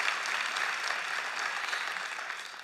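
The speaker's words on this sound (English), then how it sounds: "Let's give them all a round of applause." An audience applauds a group of performers at an anniversary event, a dense, steady, even wash of many hands clapping that stays loud throughout.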